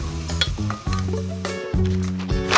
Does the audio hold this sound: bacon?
yes